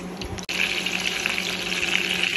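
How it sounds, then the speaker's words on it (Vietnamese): Eggplant pieces frying in a pan of hot oil, giving a steady, dense sizzle that runs throughout with a brief dip near the start. "bây giờ mình chiên cái cà này để cho hoàn tới và chín tới"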